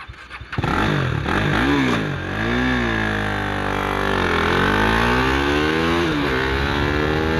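Old-model KTM RC390 street motorcycle on an empty road during a speed run, its single-cylinder engine loud and close, revving hard through repeated upshifts with rising and dipping pitch, alone without talk.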